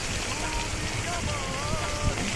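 Strained stem amaranth greens sizzling in hot oil with fried garlic and chilies, a dense steady crackle close by with faint speech underneath.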